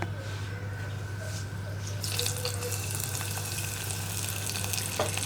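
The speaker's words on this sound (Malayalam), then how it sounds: "ഇനി നമുക്കിതിലേക്ക് വറവും കൂടി ചേർത്ത് കൊടുക്കാം." Hot tempering sizzles as it is poured over banana stem and curd pachadi, a continuous close crackle that swells brighter partway through, over a steady low hum; no talking.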